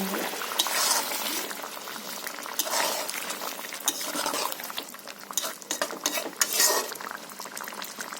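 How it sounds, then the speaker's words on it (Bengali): Bubbling fish curry with potato in a pot as fried hilsa and prawns are added, with clinks of a spoon against metal and stirring, fairly close, no voices. "এখন আমি ভাজা ভেজে রাখা মাছটা দিয়ে দিচ্ছি"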